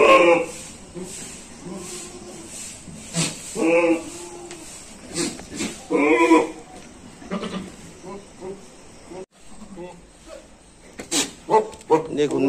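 Goats bleating at a goat farm, several calls scattered through the scene, some near and loud, others fainter, interleaved with someone talking over them.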